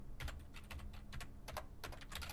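A computer keyboard clatters under quick bursts of keystrokes, close and fairly soft, while code for a game's combat menu is being typed.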